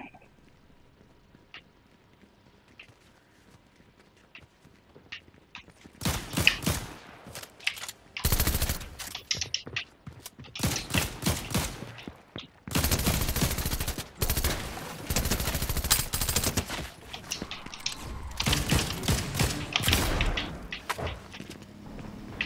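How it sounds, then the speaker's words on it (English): Bursts of rapid automatic gunfire in the video game Fortnite, played at 4K, starting after a quiet stretch then crackling in dense repeated volleys, loud and close, with a few short pauses between bursts. "someone's shooting at me"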